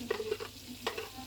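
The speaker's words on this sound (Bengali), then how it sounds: "এটা তেলের মধ্যে ভেজে নিব" Blended onion paste frying in hot oil, with soft sizzling and a few stirring scrapes in short bursts, fairly quiet and close, no voices.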